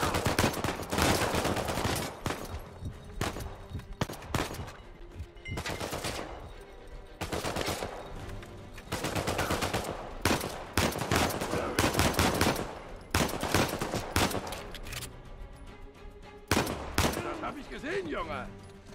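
Gunfire in Uncharted 4: sustained bursts of loud automatic shots at close range, with short pauses between volleys, under occasional talk.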